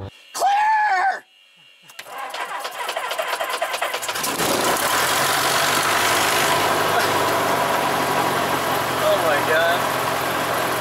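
Small airplane engine running loud and steady while taxiing to the runway on Catalina Island, after a brief quieter stretch with a short voice-like sound at the start.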